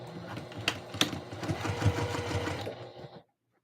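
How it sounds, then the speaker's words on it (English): A sewing machine top stitching a dress runs in a fast, steady whirring chatter for about three seconds, close and clear, then stops abruptly into silence. "I'm going to top stitch all of that."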